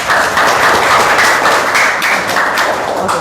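A crowd at a mimicry performance breaks into dense, steady clapping, loud and close, holding at an even level for the whole few seconds with no voices over it.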